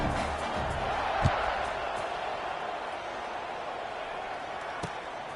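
Crowd noise fills a college football video game stadium, a low, steady buzz with a couple of sharp thumps, while a commentator talks over it.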